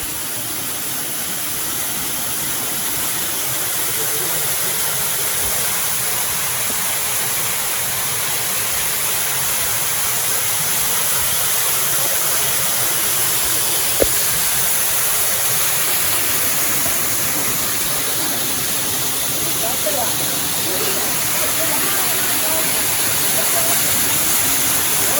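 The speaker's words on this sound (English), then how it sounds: "So we finally arrived to the waterfall. This waterfall is called Velo de Novia" Velo de Novia waterfall on a Cerro Dantas hike in Costa Rica, a continuous loud rushing roar of falling water that holds steady from start to finish with no clear voices over it.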